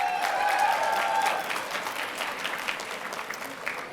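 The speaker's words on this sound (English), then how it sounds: "Give Rena one more round of applause," Audience applause for Rena at a Russian heritage reception hosted by the mayor, a dense, sustained clapping from a crowd that slowly thins out over several seconds, moderately loud and close.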